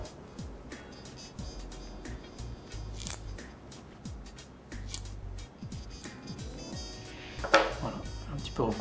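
Scissors snip the cotton wick of a Smoktech rebuildable dripping atomizer, several quiet close cuts with small handling clicks in between, in a calm indoor setting.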